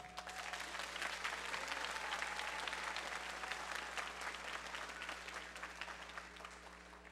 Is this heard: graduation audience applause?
yes